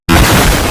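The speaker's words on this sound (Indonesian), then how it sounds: "Meledak." A sudden loud boom erupting from silence, followed by a sustained broadband rumble that holds strong for nearly a second.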